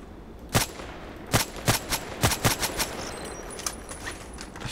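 Gunfire from an SVU-AS automatic sniper rifle in the shooter game Contract Wars: about eight sharp, loud cracks, some single and some in quick pairs, with faint background noise between them.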